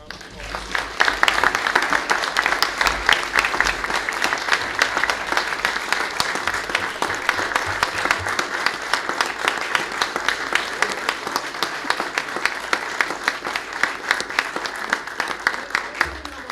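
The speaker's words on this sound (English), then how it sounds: "I ask everybody to join me in a warm round of applause" A warm round of applause fills a city council meeting in Belleville, dense and sustained clapping from the room that holds steady for the full stretch, loud and close, with a murmur of voices underneath.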